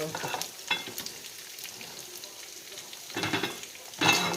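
Cabbage frying in a pan, a soft continuous sizzle with brief louder bursts of crackle and stirring near the beginning and again toward the end.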